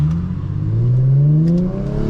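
Infiniti G37 engine revving on a night drive, one smooth rising rev that climbs in pitch and then eases off, loud and close, heard alone without talk.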